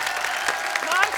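A television comedy studio audience applauds a singer's entrance on The Kapil Sharma Show, loud and continuous for the short stretch, with faint voices mixed in.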